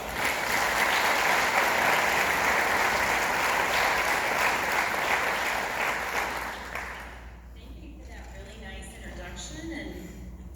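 A graduation audience welcomes the keynote speaker at a Missouri Baptist University nursing ceremony with loud, sustained applause that fills the hall for about seven seconds and then fades as a speaker starts talking.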